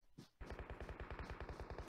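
Rapid automatic gunfire from PUBG Mobile scrims, a short burst then a steady rattling stream of evenly spaced shots, loud and close with no talking.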